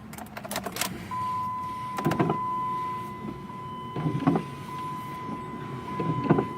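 A Dodge Neon windshield wiper motor runs on test, giving a steady electric whine with a sustained tone and a few rhythmic thumps as the wipers sweep back and forth, fairly close and without talk.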